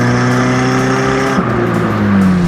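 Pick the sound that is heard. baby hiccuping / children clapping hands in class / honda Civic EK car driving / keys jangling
honda Civic EK car driving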